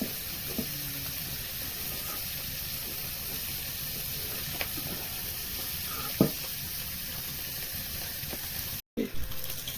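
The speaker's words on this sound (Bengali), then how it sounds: "এই যে আমি এখন চালটা ভেজে নিচ্ছি" Rice frying in oil in a pan with ginger, garlic, bay leaf and cinnamon for chicken biryani, giving a steady close hiss of sizzling throughout with a few faint stirring knocks.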